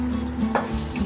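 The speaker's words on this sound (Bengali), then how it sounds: "এই রসুনগুলো আমি ভালো করে ভাজবো।" Garlic cloves fry in oil over medium-low heat, a steady, close sizzle that runs unbroken through the short moment.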